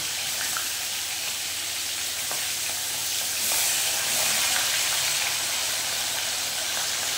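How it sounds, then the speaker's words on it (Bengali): Katla fish fries in white oil mixed with ghee, giving a close, constant hissing sizzle with a few faint crackles and a slight swell midway, with no talking. "সেই জন্য আমি সাদা তেলটার ভেতরে ঘিটা দিয়ে আমি মাছটা ভেজে নেব"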